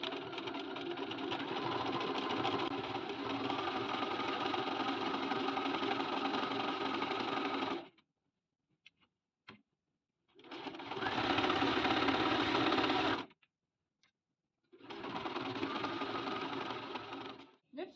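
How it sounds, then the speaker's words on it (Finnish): A sewing machine runs a straight stitch along a hoodie seam in three bursts, a long steady whir, a pause, then two shorter runs separated by silence, close and fairly loud. "nämä tosiaan ommellaan suoralla ompeleella"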